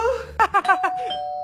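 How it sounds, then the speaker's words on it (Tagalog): A short electronic doorbell chime rings a few quick tones, close and clear, with a sustained tone trailing after. "May nag-doorbell?"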